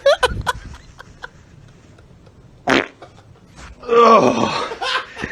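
A small, juicy sliding fart on a podcast, a short wet squeak near the start, then a sputtering rip rising loudly toward the end, with a voice or laughter mixed in.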